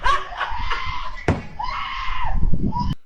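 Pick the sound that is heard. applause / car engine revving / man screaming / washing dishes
man screaming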